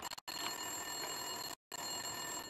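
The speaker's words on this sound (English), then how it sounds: "Winterson's phone was ringing." An office desk phone rings in the video game Max Payne, a steady electronic bell trill sounding alone and fairly loud, broken by a short silent gap before ringing on.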